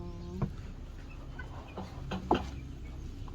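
Chickens cluck in short, scattered calls beside a roadside noodle stall, a few moderately near bursts over steady low background noise with no talk.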